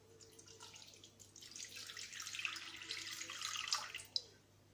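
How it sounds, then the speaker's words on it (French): Water is poured into a bowl set on a kitchen scale while making seeded bread, a steady trickling stream that swells and brightens before ending in a sharp little knock near the close. "je rajoute l'eau, j'ai mis la balance, il me faut 230 g d'eau"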